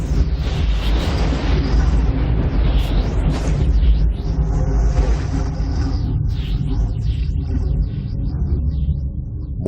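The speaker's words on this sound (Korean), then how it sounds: "휘몰아치는 이 구름은 뇌우를 일으킵니다." Deep, continuous thunderstorm rumble standing in for Jupiter's violent storm clouds, loud and dense with rolling low booms and no clear breaks.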